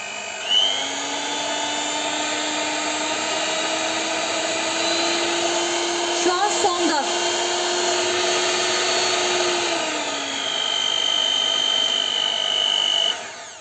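A seven-speed Arzum Naturmix electric hand mixer runs with a steady high-pitched motor whine throughout, loud and close, with a brief rattling clatter midway and a pitch shift near the end.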